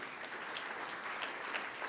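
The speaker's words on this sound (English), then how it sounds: "Let's give them a quick round of applause as well." Brief, quiet applause from a seminar audience on social media lead strategies, a short, even patter of clapping heard at a distance with no speech on top.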